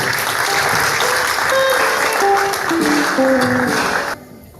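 A choir and congregation in a French-language church gathering clap enthusiastically in a loud, dense burst of applause with faint sung or cheering tones running through it, cutting off sharply near the end.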